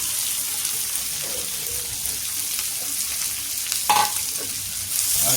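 Onions added to a pan for village-style mutton head curry, frying with a soft continuous sizzle and occasional stirring clatter, close and steady without speech.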